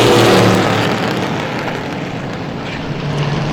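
Vintage race cars roar past at Star Speedway during a heat, a loud, continuous engine drone that swells and fades slightly as the pack goes by, with no talk.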